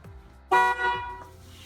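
A single short car horn honk from a Chevrolet Caprice PPV police car sounds loud and close after quiet, followed by a fainter lingering tone.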